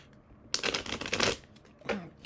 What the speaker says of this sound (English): Just shuffling away, and we'll do this general.